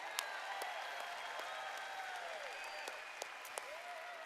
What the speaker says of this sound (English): another round of applause for our incredible SPDs.